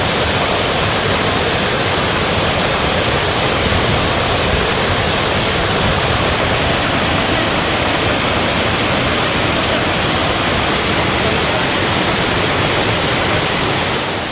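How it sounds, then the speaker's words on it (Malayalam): The swollen Chittur river rushes in flood with a loud, steady roar of churning water, constant and close throughout with no voices. "ചുറ്റും കുത്തിയൊലിക്കുന്ന ചിറ്റൂർ പുഴ"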